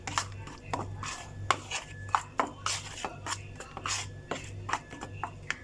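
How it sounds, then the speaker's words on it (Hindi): A spice mixture with crushed kasuri methi is stirred together in a bowl, for steamed chicken. Quiet, irregular taps, clinks and scrapes follow in quick succession. "अब इन सबको अच्छे से मिक्स कर लीजिए।"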